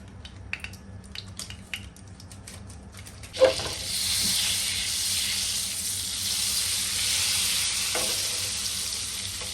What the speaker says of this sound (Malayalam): ഞാൻ ഗ്യാസ് ഓണാക്കി വീണ്ടും ഒരു ഇച്ചിരി ഓയിൽ ഒഴിച്ച് നമുക്ക് കുറച്ചുകൂടെ ബട്ടർ ഇട്ട് കൊടുക്കാം.